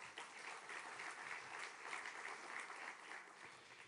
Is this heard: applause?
yes